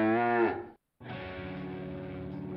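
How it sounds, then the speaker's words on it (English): Cows mooing in a Chick-fil-A radio advertisement: a short moo breaks off, then after a brief silence a longer, steady low moo is held to the end, loud and with no talk over it. "The cows are calling."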